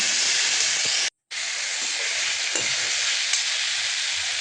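Water poured into a hot frying pan of poppy seed paste gives a loud, steady sizzling hiss close up. It drops out for a moment and then resumes just as strongly.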